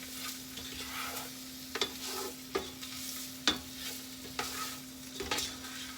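Cabbage sizzles steadily in a hot pan while a spatula stirs it, with several sharp scraping clicks spaced a second or so apart over the constant frying hiss and a low steady hum.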